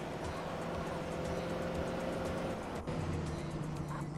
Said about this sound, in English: That car swung out on me.